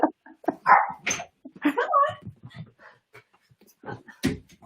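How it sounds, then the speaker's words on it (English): A dog barks outside a door indoors: a couple of short, sharp, muffled barks break through amid scattered close vocal sounds and breathy noises. "I just heard the dog bark outside the door"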